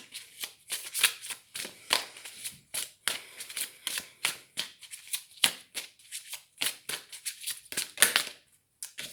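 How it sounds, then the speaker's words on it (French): Playing cards being shuffled, with a rapid series of crisp riffling bursts and flicks repeating steadily and close by, with no talking over them. "Je vais mélanger les cartes."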